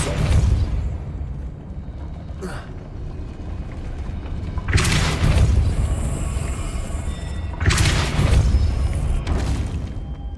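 The Depulso force-push spell in Hogwarts Legacy lands as heavy booming whooshes, two strong bursts a few seconds apart, over a low, constant rumble of game ambience.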